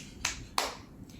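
A woman on a balcony gives two sharp, close hand claps, spaced apart, then a faint third tap in a quiet setting.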